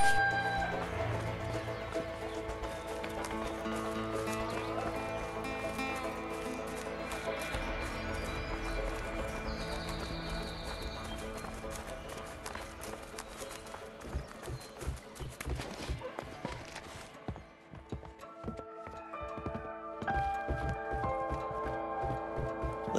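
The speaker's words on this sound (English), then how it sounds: "Let's just hope these horses keep running." Hooves clatter in a rapid, steady gallop in the video game A Way Out, beneath a constant layer of music and ambience, continuing throughout with a brief dip near the end.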